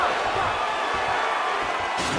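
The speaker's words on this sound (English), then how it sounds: "the crowd voicing its appreciation after that round" A dense, steady roar of a crowd cheering after a round in the fighting video game UFC 4, sustained and loud for a couple of seconds with a faint thump near the start.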